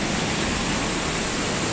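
Water rushes through the open gates of a working hydro dam at Doraha, Punjab, a dense, continuous broadband roar heard close up without any voices.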